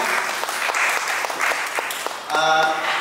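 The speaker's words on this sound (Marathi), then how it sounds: "जोरदार त्यांच्याकडे टाळ्या वाजवूया" A seated audience at a cultural school event claps together, a dense close patter that carries on for the few seconds before a voice comes in near the end.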